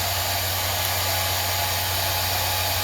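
A handheld blow dryer aimed at a wig, running as a steady loud whooshing hum with a constant low motor drone, close and uninterrupted with no talking.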